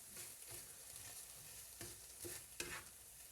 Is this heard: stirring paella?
yes